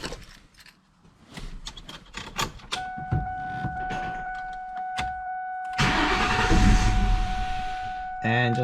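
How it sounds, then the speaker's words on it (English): A 1999-2004 Ford Mustang GT 4.6L engine cranks with a steady tone from a dashboard chime, then catches and runs with a loud rumbling idle; no speech. "So we'll pull them up and let's crank the car."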